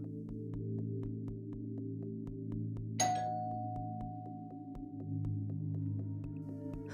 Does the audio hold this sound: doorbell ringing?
yes